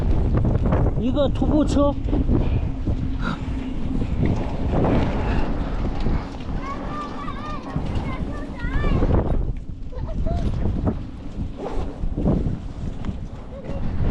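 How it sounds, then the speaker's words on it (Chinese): Strong gusting wind buffets the microphone while riding a bicycle along the Qinghai-Tibet route near Nagqu, a loud continuous roar with someone talking over it throughout. "哇呀，好大的风呀！"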